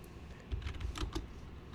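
Computer keyboard typing in a horror game setting: scattered soft key clicks in uneven bursts, moderately close, over a low background rumble with no talking.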